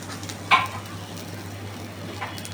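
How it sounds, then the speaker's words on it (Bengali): Thin lentil (khesari dal) batter fritters with gima greens frying in hot oil, a brief soft sizzle burst as batter hits the pan, then a fainter second sizzle later over a steady low hum. "দেখো তেলটা গরম হয়ে গেছে, আর এখানে নিয়ে নেবো অল্প করে এই বাটাটা, যেটা দিয়ে বড়া করব।"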